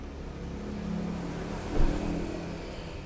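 A 2018 Honda Brio idling with the air conditioning on, its engine vibrating as the RPM drops: a quiet, low steady hum with a brief surge in the middle, no talking.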